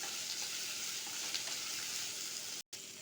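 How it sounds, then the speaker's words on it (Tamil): Chopped onion and green chili sizzle steadily in hot oil for a kurma, with faint stirring scrapes, close and continuous and broken only by a brief dropout near the end. "இப்போ கட் பண்ணி வச்சுருக்கிற ஒரு பெரிய வெங்காயம், ஒரு பச்சை மிளகாயும் சேர்த்துக்கலாம். இதை நல்லா வதக்கிக்கலாம்."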